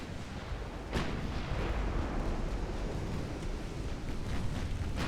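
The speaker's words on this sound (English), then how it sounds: "Severnaya Zvezda is exploding" A warship exploding in the naval video game Ultimate Admiral Dreadnoughts, heard as a deep, rumbling blast that swells and rolls on as a dull, continuous roar.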